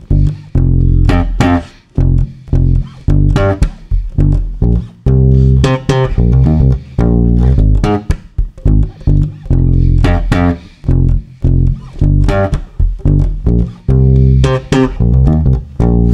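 Fast slap bass riff played with thumb plucks and popped strings, loud and percussive with a choppy, syncopated rhythm of deep thumped notes and sharp snapping pops, alone without any talk.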